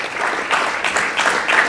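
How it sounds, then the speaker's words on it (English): A crowd at an ISKCON temple gathering claps briefly, dense and steady applause close at hand. "So please give him a big round of applause."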